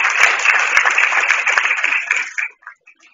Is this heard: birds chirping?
no